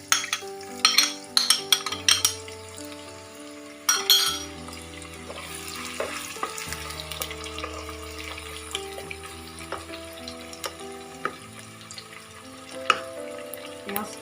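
Chopped onion fries in a pan with cardamom and cloves, the start of a katla fish-head muroghanto. A soft, steady sizzle carries sharp utensil clinks early on, over quiet background music.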